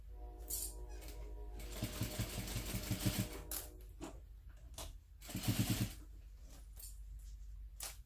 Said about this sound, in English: sew around the curved portion